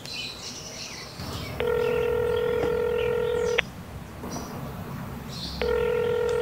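A phone call being placed: a short burst of dialing tones, then two long electronic ringback tones with a pause between, steady and clear over faint background noise, with no voice.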